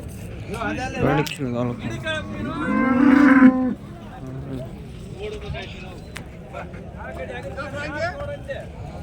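Cows, including Jerseys, moo loudly, with one long low call standing out, amid a busy cattle market in Chintamani where people talk nearby.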